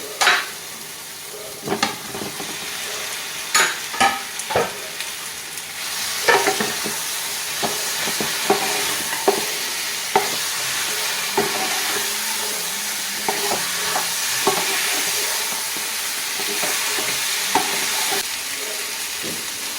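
Spice masala for a cauliflower and egg dish sizzling loudly in a pan, with repeated sharp spatula scrapes and clanks against the metal throughout.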